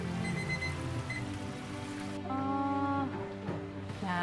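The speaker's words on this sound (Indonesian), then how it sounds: "Nah, ini kan udah bunyi, jadi kita pakai timer udah langsung kita angkat." A kitchen timer beeps in short electronic bursts while food fries, its tones rising over a steady hiss of sizzling oil nearby, with no speech.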